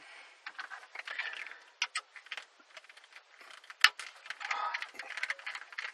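Tight factory screws being backed out of a 2005 Toyota Echo hatchback dashboard, heard as close, quiet ratcheting clicks and creaky turns in irregular bursts, with one sharp snap near the middle.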